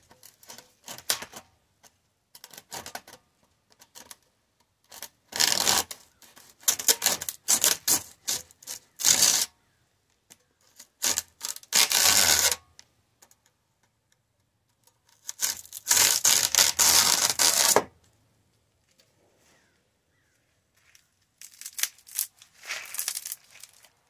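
A dried loofah gourd is cut at the top, giving close, scratchy sawing and rasping in irregular bursts, with brief quiet gaps between strokes.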